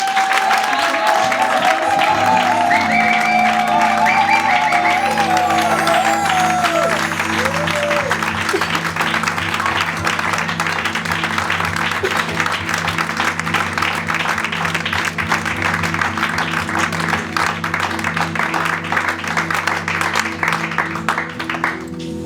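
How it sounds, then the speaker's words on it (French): A church congregation applauds the Lord in steady, sustained clapping that fills the whole stretch, with a sung or spoken voice rising over it early on and a low hum of music underneath. "C'est pourquoi j'aimerais qu'on applaudisse le Seigneur."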